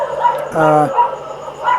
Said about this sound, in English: Sorry about the dogs all barking right now.